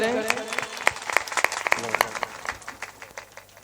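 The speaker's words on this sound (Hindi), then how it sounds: "एक बार जोरदार ताली का स्वागत करें।" An audience at a Shri Ram Katha religious discourse gives a short round of hand clapping that is fairly close and loud at first, then thins out and fades within a few seconds.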